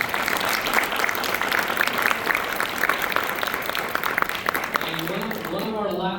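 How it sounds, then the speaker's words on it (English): A crowd applauding candidates at a forum luncheon, dense clapping that continues for several seconds, with a voice starting to speak as it tapers off. "Let's give the candidates one more big round of applause."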